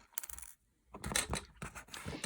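A cutter nips off excess earring wire near a bead in a few small, close, sharp clicks and snips, with a short pause between them.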